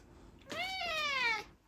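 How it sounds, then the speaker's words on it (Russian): A single close, clear meow from a cat at home, rising then falling over about a second, heard alone in a quiet room. "Мяу, скажи еще."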